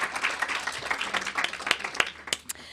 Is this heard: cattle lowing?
no